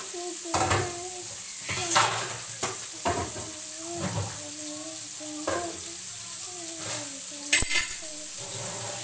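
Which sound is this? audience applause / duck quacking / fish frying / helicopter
fish frying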